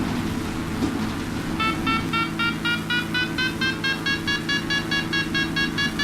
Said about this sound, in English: you hear that classic glider sound, which tells you how quickly you're climbing or descending